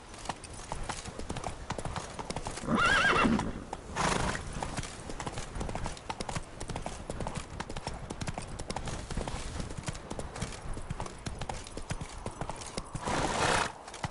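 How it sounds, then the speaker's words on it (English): In The Witcher video game, a horse gallops with rapid, steady hoofbeats throughout. There are loud snorting or whinny bursts near the start and again near the end, and a voice speaks briefly. "Giddy up."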